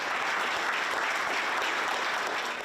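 Long, steady round of applause from a large gathering at a formal Hong Kong government ceremony, dense sustained clapping throughout with no voices rising above it.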